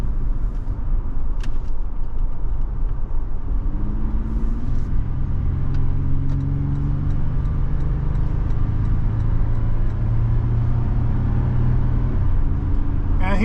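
A 2023 Toyota 4Runner Limited 4x4 climbs a curving highway ramp, its engine droning steadily with gear-change tones rising and falling under road noise, while a voice speaks over it.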